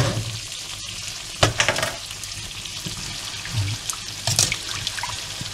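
Water is poured over browned meat in a pressure cooker for couscous royal, a continuous rushing splash mixed with sizzling and a few clanks, close up and moderately loud.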